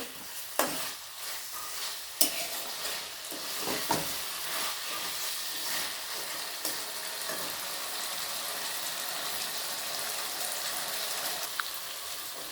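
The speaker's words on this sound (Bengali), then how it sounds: "মটরশুঁটিগুলো দিয়ে দেবো আর টমেটো কুচিগুলোও দিয়ে দেবো, দিয়ে আবারও একটু কষিয়ে নেব" Green peas and chopped tomatoes sautéing in a pan, a dense, steady sizzle with frequent scraping stirs, louder and busier at the start, then settling into an even crackle.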